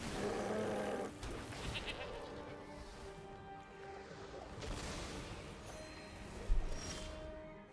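Goat bleats from a Magic: The Gathering Arena match, a couple of short nasal calls rising over steady game music and effects, with a few brief bursts along the way.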